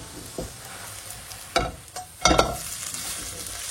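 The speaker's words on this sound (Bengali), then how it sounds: "খুব হালকা আছে আমি ভাজছি" Food frying in a pan at home as it is flipped, a soft steady sizzle broken by a few sharp scraping clatters of the spatula, no talking.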